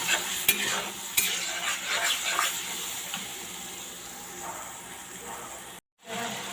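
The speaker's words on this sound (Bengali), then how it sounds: "1 চামচ মরিচের গুঁড়া, আর 1 টেবিল চামচ আদা রসুন বাটা দিয়ে মশলাটাকে ভালোভাবে কষিয়ে নেব।" Masala of chili powder and ginger garlic paste being stir-fried in a pan, a soft continuous sizzle with scraping stirs and occasional sharp clinks of a spoon, faint and close, briefly cutting out near the end.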